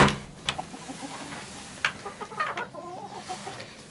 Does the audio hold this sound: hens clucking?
yes